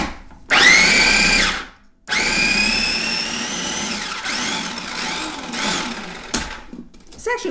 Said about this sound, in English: Works better in a bigger food processor.